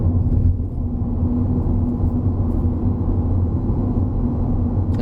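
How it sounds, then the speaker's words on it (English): Tyres of a 2021 Nissan Almera 1.0 Turbo rolling over city roads, heard from inside the cabin as a steady, loud low rumble with a faint hum and no engine noise standing out. "all I'm hearing is the tires on the road"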